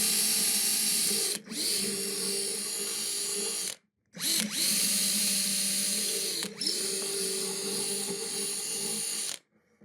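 A power drill bores a bolt hole through a wooden guitar neck, three loud, steady bursts of motor whine and bit grinding separated by brief pauses, close up with no talking.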